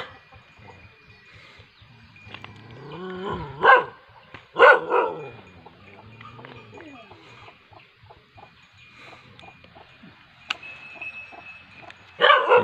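A dog barks in short bursts at a small house deep in a forest, a few sharp barks near the start and again at the end, with quiet outdoor sounds in between.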